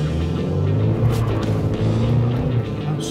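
A Chevrolet Silverado with the 2.7L turbo high-output engine accelerates on a straightaway while towing a trailer of just over 7,300 pounds, giving a loud, steady engine drone heard from close by inside the truck.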